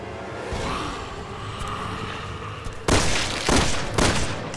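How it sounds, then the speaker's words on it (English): Gunfire in the Resident Evil 6 video game: three loud, sharp shots in quick succession near the end, after a stretch of low rumbling ambience. "I shot him in the head like 3 times"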